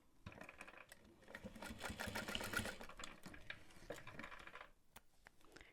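A sewing machine stitching a tote bag, a quiet steady mechanical whir with a rapid needle rhythm that runs for several seconds and then eases off.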